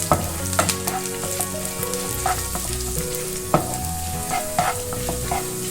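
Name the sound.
curry leaves and cashews sautéing in a pan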